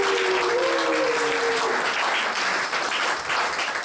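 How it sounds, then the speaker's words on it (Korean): A young adults' church congregation applauds the new-family team with steady, even clapping, while a brief voice sounds underneath at the start. "이 기회를 빌어서 우리 새가족 팀에게도 박수 한번 보낼까요?"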